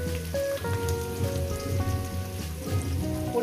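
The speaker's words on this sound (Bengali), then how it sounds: "পেঁয়াজ কুচোটাকে দিয়ে আমি একটু হালকা করে 1-2 মিনিট একটু ভেজে নেব বন্ধুরা" Chopped onion frying lightly in hot oil gives a steady, close crackling sizzle that runs throughout, with faint tonal music beneath it.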